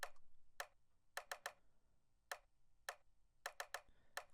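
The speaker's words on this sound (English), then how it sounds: "Kind of like a rim sounding type percussion almost." A rim-like percussion element in a beat: crisp, dry clicks in a syncopated pattern of single and paired hits over a faint low background, heard alone.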